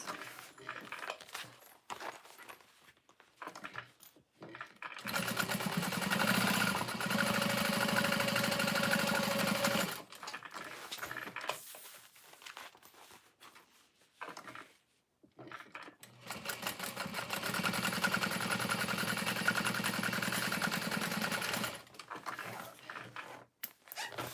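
A Juki sewing machine stitching fabric pieces for pouches runs in two long, loud bursts of rapid mechanical whirring, with quieter handling and fabric rustling before, between and after.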